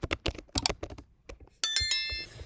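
Quick key presses clatter on a computer keyboard for about a second and a half, close and crisp, then a bright electronic chime rings out and fades.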